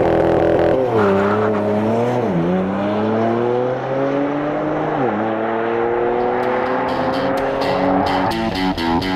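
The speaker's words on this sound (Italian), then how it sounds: "Non sto più guidando una diesel, ma la Macan Turbo S da 400 cavalli" A 400-horsepower Porsche Macan Turbo S drives hard on the Porsche Leipzig factory's internal circuit, its engine climbing steadily in pitch through two gear changes. The loud, close engine continues with no talking.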